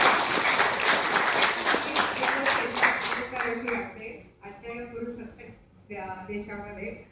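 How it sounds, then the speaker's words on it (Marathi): An event audience gives hearty applause, dense crowd clapping for about three seconds that fades out as music and a voice take over for the remainder. "सो एकदा जोरदार टाळ्या मिष्टीसाठी सुद्धा झाला पाहिजे."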